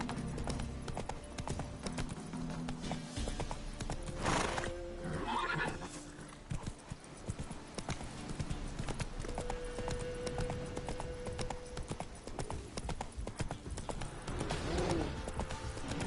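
Roach the horse in The Witcher 3 clip-clops along at a trot and lets out whinnies, hooves steady and close against a game soundscape, with faint bird calls now and then.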